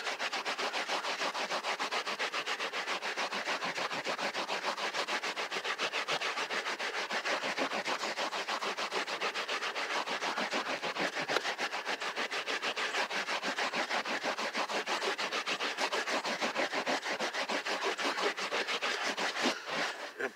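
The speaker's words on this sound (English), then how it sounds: "You can clean any carpets by hand. Just use my microfiber cloth like this." Microfiber cloth scrubbing a carpet by hand with orange cleaner degreaser, a steady, continuous rubbing and scratching that runs unbroken and close for the whole stretch, with no talking.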